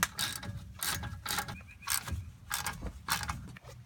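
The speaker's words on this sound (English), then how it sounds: "there's two bolts, one here and one down here. And they will be taking a 3/8 inch Allen key." An Allen key working the brake caliper bolts on a 1997 Dodge Ram 1500 gives soft, close mechanical ratcheting and scraping. The strokes come in a steady rhythm of short bursts with no speech.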